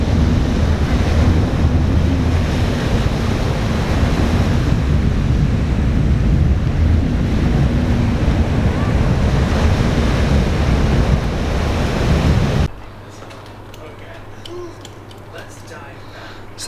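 Ocean waves washing onto a beach, a loud continuous roar of surf mixed with heavy wind buffeting the microphone for about twelve seconds, then dropping abruptly to a much quieter low rumble.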